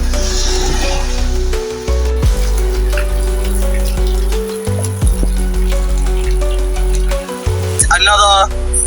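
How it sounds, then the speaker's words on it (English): Heavy rain during a UK thunderstorm, a dense steady patter and splash that runs throughout, with a voice speaking over it. "Heavy rain hitting the UK today"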